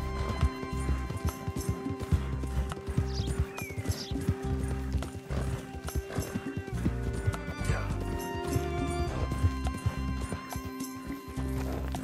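Rapid, rhythmic hoofbeats of a galloping horse in Red Dead Redemption 2 with an occasional whinny, over a steady layered background of game sound.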